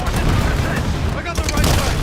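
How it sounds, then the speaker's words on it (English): Heavy sustained gunfire and explosions rattle through a war video game trench battle, a dense continuous roar of shots and booms with voices faintly mixed in. "Taking heavy fire from"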